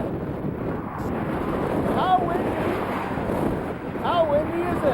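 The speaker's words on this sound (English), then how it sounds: "I can't hear you, it's too windy." Strong wind buffets an outdoor microphone in steady, rumbling gusts that swell louder around the middle and end, with faint voices and a few short tonal sounds over the roar.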